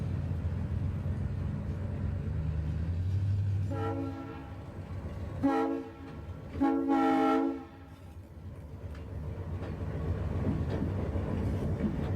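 An ALCO diesel locomotive rumbles past, sounding its horn in a few loud blasts, with engine noise and rail clatter before and after.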